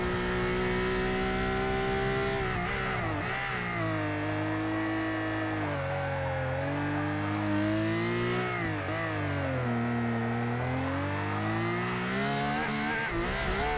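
LaFerrari race car roaring through a lap in Forza Motorsport 6, with a loud, continuous engine note that rises and falls through gear changes and revs, steady and close throughout with no talking.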